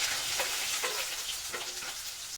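Chopped onions and green chillies fry in hot oil with cumin in a kadai, making a close, steady, dense sizzle with faint stirring scrapes throughout and no talking.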